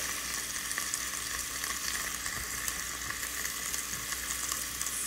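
A steak sizzles and spits steadily inside a closed waffle iron, a continuous bright frying hiss with faint pops at even loudness throughout, and no voices.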